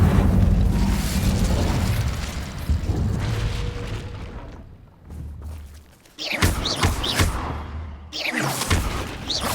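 An Incendio fire spell is cast in Hogwarts Legacy, giving a loud whooshing burst of flame that rumbles and fades, followed by a few sharper magical cracks and bursts.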